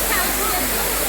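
An electric water fountain pours down from above in a steady, close rush of splashing water, with voices talking over it.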